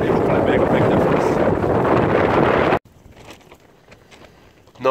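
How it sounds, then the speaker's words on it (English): Strong gusts of up to 50 mph roar against a North Face Westwind tent on a mountain wild camp, a loud continuous buffeting that cuts off abruptly, leaving a quieter flapping rustle before the wind surges back. "Just see the tent getting buffeted, and a big tension on the guylines."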